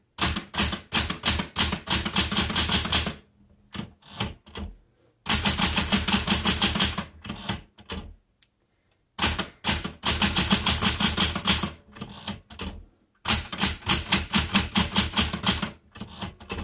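Rapid keystrokes on a Smith Corona Galaxie Twelve vintage typewriter, clattering close and loud in three long bursts separated by short pauses, with no talking.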